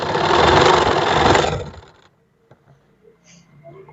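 Sewing machine stitching a trouser, a steady close whirring run for about a second and a half that stops abruptly, followed by quiet handling clicks.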